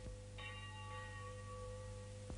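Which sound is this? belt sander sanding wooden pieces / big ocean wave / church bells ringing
church bells ringing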